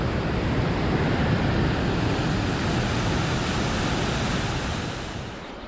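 Rushing water on the East Pukaskwa River just above its first waterfall, a loud, steady roar close at hand that stays constant, then fades slightly at the end.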